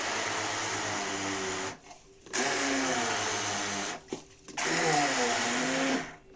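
A blender grinding millet whirs loudly in three bursts, cutting off briefly between runs, with a steady high-pitched motor drone.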